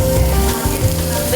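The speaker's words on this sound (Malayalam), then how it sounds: "ഇനി ഇതിലേക്ക് ഞാൻ ഈ ക്യാരറ്റ് ഇടുക." Carrots dropped into hot oil with popped mustard seeds, a loud, steady close-up sizzle and crackle of frying that continues throughout with a brief stir.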